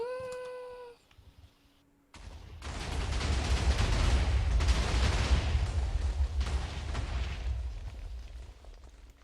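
In a video game, 400 TNT blocks go off together, a long rumbling barrage of overlapping explosions that roars for about seven seconds after a brief synthetic tone and a short pause.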